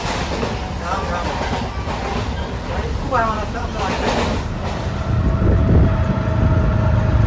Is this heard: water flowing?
no